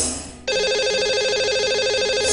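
A telephone rings out on a line being dialed for a lucky caller on a radio show, a steady repeating electronic ring tone that starts abruptly after a brief moment and continues loud and close without talk.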